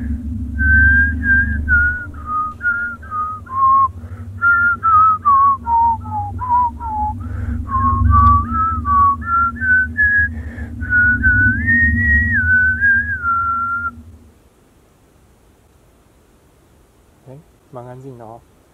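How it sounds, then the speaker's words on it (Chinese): A person whistles a wandering, warbling tune on a quiet mountain path beside a cliff, loud and close over a low hum, then stops abruptly; a short sharp sound follows near the end. "我们要在这边吹一次口哨看看。"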